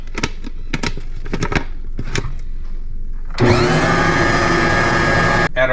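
A Bosch stand mixer working oats into oatmeal cream pie cookie dough. A few sharp taps and clatters come first, then the motor starts with a loud, steady whirring churn that runs for about two seconds and cuts off abruptly.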